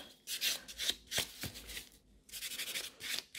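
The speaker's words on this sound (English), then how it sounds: "So this one needs to get buffed." A buffer is rubbed over gel nail extensions on short, bitten nails in quick scratchy strokes that come in short bursts with brief pauses, soft and close, with no talk.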